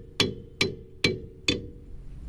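A hammer strikes a broken wheel stud on a first-generation Toyota Tundra, four sharp metallic blows at an even pace, close and loud, with faint ringing between hits.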